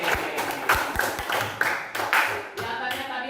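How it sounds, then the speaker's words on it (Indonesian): A classroom of pupils claps for everyone's answers, a scattered, uneven patter of hand claps with a few sharp individual claps standing out, close by and moderately loud, with some voices mixed in. "Tepuk tangan buat semua jawabannya"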